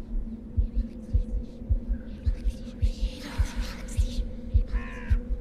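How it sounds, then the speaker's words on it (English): Heartbeats thud in the video game Silver Chains, a steady lub-dub pulse about twice a second over a low droning hum, with faint eerie whispers and a crow-like caw on top. "Heartbeats."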